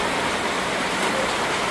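Heavy rain pours down in the Philippines, a dense and constant roaring hiss of drops hitting surfaces, close and loud with no voices over it.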